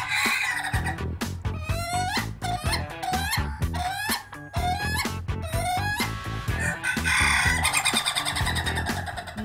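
An Ayam Ketawa laughing chicken calls in long rapid cackling bursts, loud and close, the repeated staccato notes rising and tumbling like laughter with brief pauses between phrases.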